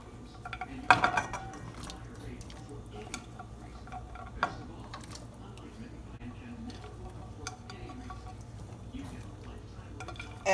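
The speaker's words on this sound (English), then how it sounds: "I'm gonna go ahead and add my string beans." String beans are tipped into a pot where pork tail has been cooking for Southern green beans, with one clattering clink of pot and utensil, then light scattered clicks over a low hum.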